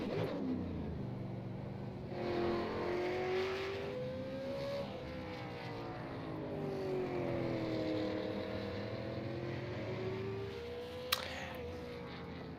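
A race car on a qualifying lap in the Clark Electric 150, heard as a faint, distant engine drone whose pitch rises and falls steadily throughout, with a sharp click near the end.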